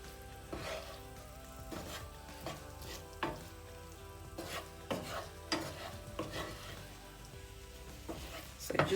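A spoon stirring spicy potatoes through sauce in a sizzling pan, a string of scraping strokes in an uneven rhythm over a soft steady fry.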